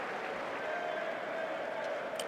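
Crowd applause on a Sunday night at Wimbledon for Jannik Sinner after his match win, heard as a distant, soft wash of clapping. A faint tone runs through it and a few sharper sounds come near the end.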